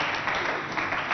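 Brief burst of crowd clapping at a school quiz contest in Abéché, a short, dense patter of many hands at steady loudness.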